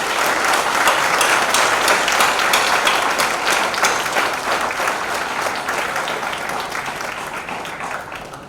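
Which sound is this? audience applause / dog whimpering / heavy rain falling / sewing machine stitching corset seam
audience applause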